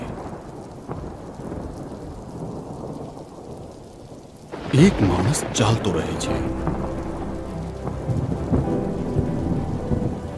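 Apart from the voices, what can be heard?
thunderstorm with heavy rain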